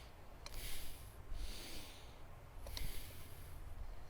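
Slow breathing in and out through the nose during a tai chi exercise, soft airy breaths drawn close to the microphone in a steady rhythm, with a slight sniff between them.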